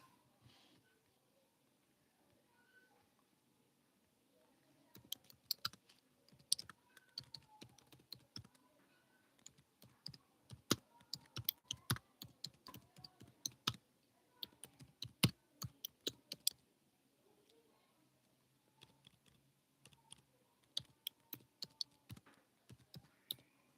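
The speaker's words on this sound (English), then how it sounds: "I'll just type that in the chat" Brisk, irregular clicking of fingers typing on a computer keyboard starts after a few quiet seconds and continues in close, uneven bursts with no one talking.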